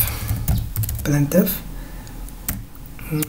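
Clicky bursts of typing on a computer keyboard while writing C code, irregular keystroke clusters fairly close, mixed with a person talking in French.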